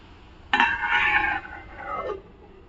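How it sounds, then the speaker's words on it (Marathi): A metal lid lands on a pan of cabbage cooking on the stove, giving a brief clattering clink and then a short scraping rattle as it settles, with no talk. "कोबी आहे ना पटकन शिजण्यासाठी आहे ना वरून झाकण मारून घेऊया."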